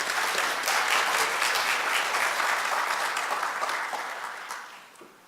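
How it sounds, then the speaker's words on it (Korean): An audience at a capital markets research institute anniversary ceremony gives loud, sustained applause that holds steady, then fades out toward the end. "여러분께서도 높은 존경과 감사의 표시로 뜨거운 박수 보내주시면 좋겠어요"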